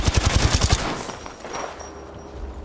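Automatic gunfire in Apex Legends, a rapid burst of about eight loud, close shots in quick rhythm, then breaking off into a fading rumble and faint game ambience.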